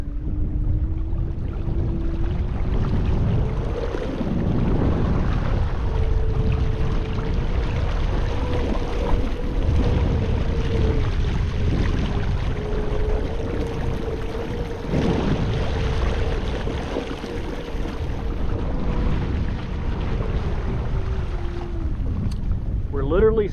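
Electric trolling motor on a Newport NK180PRO kayak running at full throttle, a steady close whine under wind and splashing water, continuous throughout while the kayak spins on the water.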